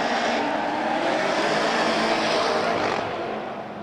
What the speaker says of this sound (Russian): очень резко бросает в занос свою супру Павел Бусыгин